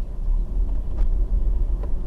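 Car driving along a road near Sinda, Zambia: a steady low engine and road rumble with wind buffeting, continuous and close, no voices.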